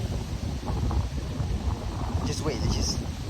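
Steady wind buffets the microphone beside river rapids on a summer bass-fishing outing, a continuous low rumble that fills the whole stretch at close range.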